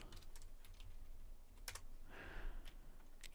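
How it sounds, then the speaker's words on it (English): Japanese is being typed on a computer keyboard as a run of scattered, crisp key clicks at close range, uneven in rhythm, with a soft hiss in the background and no talking. "to type it on the keyboard, you just go konnichiwa"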